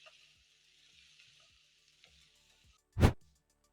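Breakfast potatoes fry in a pan with a soft steady sizzle, a few faint taps, and then one loud brief burst of noise near the end.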